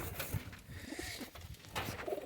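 Domestic pigeons kept for sale give low, rolling coos at close range, a soft continuous murmur with a few brief throaty pulses.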